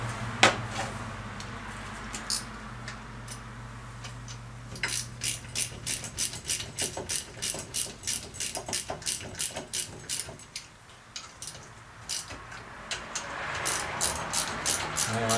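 A ratchet wrench tightens bolts to pull a BM 250 trials motorcycle crankcase, giving a long series of quick close clicking strokes in rhythmic bursts, with some metallic shuffling before and after.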